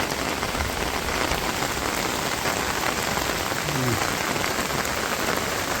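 Steady rain pouring down on a rainy day in rural Bangladesh, a dense, even hiss of drops striking surfaces that holds constant from start to finish, with a faint voice briefly audible underneath.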